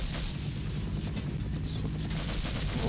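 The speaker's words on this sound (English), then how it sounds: "Some major bombing, a few soldiers running around," Heavy bombing and soldiers' gunfire rage in the Half-Life video game, a constant loud wash of rumbling blasts and rattling shots with no clear gaps.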